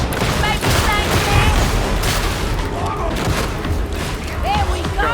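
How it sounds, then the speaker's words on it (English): Grenade explosions and gunfire in Warhammer 40K Darktide, a dense loud barrage of booms and shots layered with game effects and shouting voices throughout. "Throwing grenades!"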